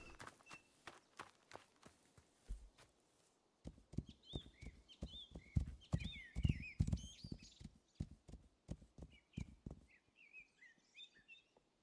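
A horse walks in the video game Rising World, its hooves clip-clopping in a steady uneven rhythm close by, with birds chirping lightly in the background.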